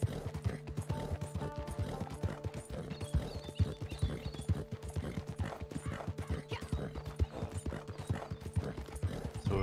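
Horse hooves clip-clopping in the video game Red Dead Redemption 2, a brisk, steady rhythm of close hoof strikes with light mechanical clicks and a faint whinny, no talk.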